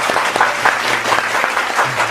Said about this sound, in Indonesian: Boleh semuanya tepuk tangan dulu untuk Pak Yatino dengan Pak Taslim